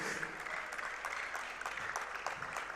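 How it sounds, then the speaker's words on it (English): Steady applause from a crowd at a conference closing ceremony, a dense patter of clapping that carries on evenly throughout, fairly soft and distant. "A round of applause, ladies and gentlemen."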